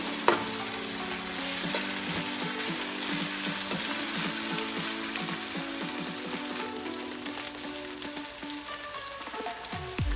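Onion, ginger and garlic frying in a pan with a steady sizzle, while a utensil stirs and scrapes in repeated rhythmic strokes, close and fairly loud throughout.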